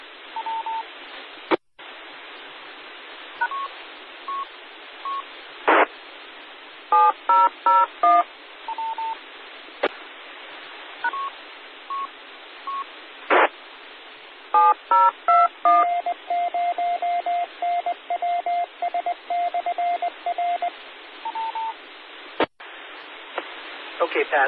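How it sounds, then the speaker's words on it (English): DTMF touch tones sent over a ham radio repeater on a severe weather net, bursts of crisp dialing beeps with squelch clicks and radio static between them, some long sustained tones near the end. "I did hear the touch tones"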